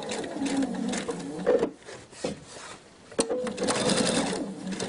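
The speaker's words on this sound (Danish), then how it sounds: "denne her maskine stopper maskinen med nål nede, og så løfter den lige trykfoden for mig" A sewing machine stitching fabric for a kimono, running in steady bursts that stop and restart with a brief click, close and moderately loud, under a quiet voice.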